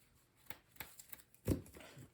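Cardfight Vanguard trading cards being shuffled by hand at close range, with a quiet run of soft riffling snaps and one louder flutter near the end.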